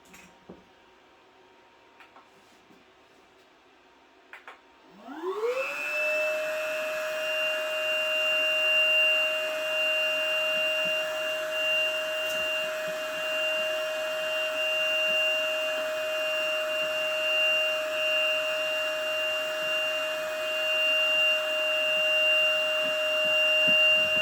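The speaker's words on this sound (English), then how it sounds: "The airway is clear and ready to pump it up." Electric pump inflating an Aquamarina AirCat AC335 inflatable boat switches on after a few seconds of quiet and runs as a steady, loud whine with a fixed tone that keeps going without a break.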